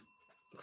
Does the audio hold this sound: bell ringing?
yes